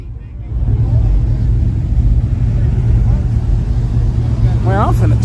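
Turbocharged Caprice rumbling loud and close during a burnout, a dense low roar that holds steady throughout, with people talking over it.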